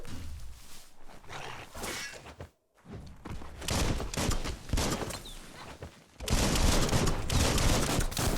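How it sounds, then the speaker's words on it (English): Dense, continuous gunfire and impacts from the game Biomutant, loud and chaotic bursts with a brief gap of silence before a heavier, sustained volley near the end. "Bullets everywhere."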